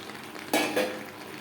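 A spoon stirs fried potatoes into a pan of chicken curry, giving two short scraping, sizzling bursts about a quarter second apart over a faint background hiss.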